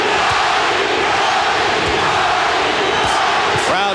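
A packed boxing arena crowd at a world super flyweight title fight between Johnny Tapia and Danny Romero roars and chants a fighter's name in a loud, sustained, rhythmic mass of voices.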